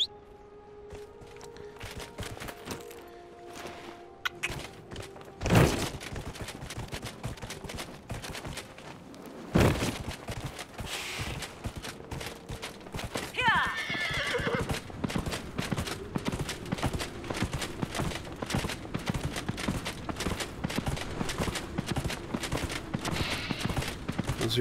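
Horse hooves clip-clopping at a steady gallop in Dragon Age Inquisition, rhythmic and continuous over the game's ambient music, with a couple of loud sharp impacts early on; no neigh stands out.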